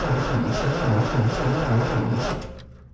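Triumph TR6 engine cranks over slowly on a weak battery, a close, labored rhythmic churning with uneven pulses for a few seconds before fading out.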